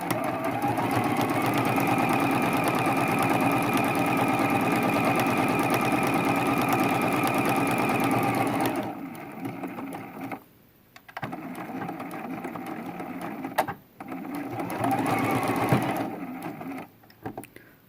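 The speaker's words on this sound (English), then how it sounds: "I'm going to do some back stitches into that corner." A sewing machine back stitching the corner of a quilted throw pillow. It runs loud and close in one continuous whirring burst for about nine seconds, then in shorter runs separated by brief pauses.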